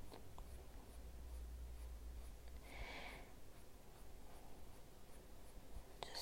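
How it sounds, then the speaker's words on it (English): Prismacolor colored pencil shading ash blonde hair on paper at medium pressure, a steady soft scratchy rasp running throughout, close and quiet, with no talking. "I'm just using medium pressure on the pencil because we're going to be doing a couple of layers."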